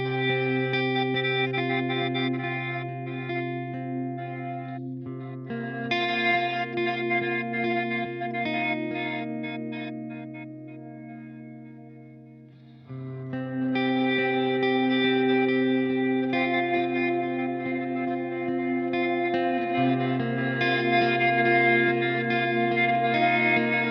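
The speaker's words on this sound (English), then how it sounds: "This reverb for me is like instant guitar soundtrack" Sustained electric guitar chords through a Walrus Mako R1 reverb pedal, washed in heavy reverb with glitchy, stuttering echoes, swelling and fading continuously, loud and alone.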